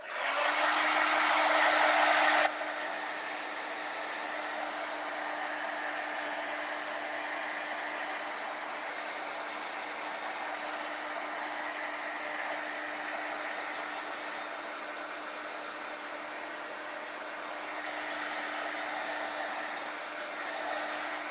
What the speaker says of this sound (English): So I'm going to turn on my dryer once again